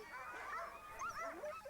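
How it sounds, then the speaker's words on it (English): Sled dogs at the start of the Yukon Quest race in Alaska give several yips and whining barks, moderately distant, with a murmur of voices underneath. "570 dogs in 41 teams begin a journey many will fail to finish"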